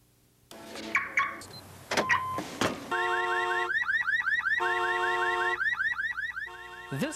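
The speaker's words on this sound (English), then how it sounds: "Auto alarms are being installed more frequently as car thefts and burglaries continue in the Northland." A car alarm blares close and loud, cycling through rapid warbling whoops and rising chirps after a few clunks and rattles at the start.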